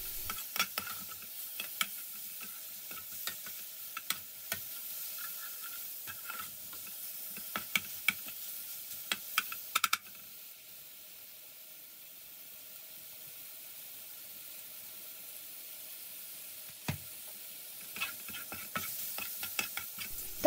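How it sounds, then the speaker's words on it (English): Rice and spice powder stirred in a pan for a British Indian restaurant-style mushroom pilau, with scattered scraping and clinking of the spoon over a soft steady sizzle, quieter stretches between bursts of stirring. "Add the mixed powder, stir through, then add the rice."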